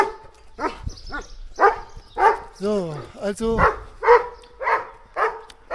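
A friendly dog at a community living site near Chania, Crete barks and yips in short bursts, then gives a whining, wavering whimper, close by and mixed with people talking.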